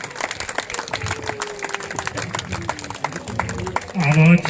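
Applause from a crowd welcomes a guest at a Garhwali student honours ceremony in Uttarakhand, a steady patter of many hands heard at moderate distance under a voice over the loudspeaker, growing louder at the end.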